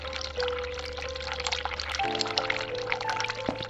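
Hot water pours steadily from a tap in a video game, a continuous close splashing stream with a faint tonal hum underneath.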